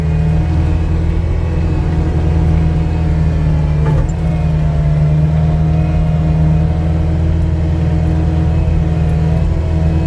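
A skid steer's engine runs as it climbs through mud on a dirt road, making a loud, steady low rumble that holds throughout with one brief dip.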